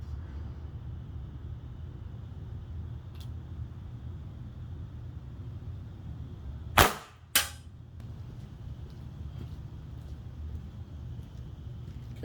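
A PepperBall VKS launcher powered by twin 12g CO2 cartridges fires at a coconut from about 25 feet outdoors. Two sharp, loud pops come in quick succession over a low steady background rumble, with no speech.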